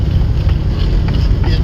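The cabin of a Can-Am Defender XT HD10 Limited UTV fitted with tracks fills with a loud, constant low rumble and roar while the vehicle is moving, with a hint of a voice underneath.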